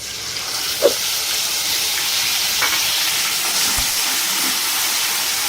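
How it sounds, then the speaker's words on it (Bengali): Ground ginger, garlic and dried chili paste frying in a pan for prawn malai curry, a steady close sizzle and hiss with a few faint scrapes of stirring. "এর মশলাটা একটু আমি কষিয়ে নিই"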